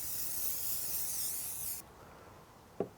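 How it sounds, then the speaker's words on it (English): Waterproofing spray hisses from a can onto damp leather boots in one close, steady burst lasting under two seconds, then stops, followed by a brief faint knock. "So we're going to give the boots a really good spray."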